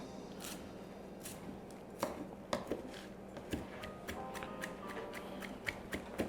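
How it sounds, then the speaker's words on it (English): Fresh parsley chopped with a knife on a cutting board in a home kitchen, a run of sharp irregular taps, close and fairly quiet over a steady low background hum. "So we're gonna give that a quick little chop."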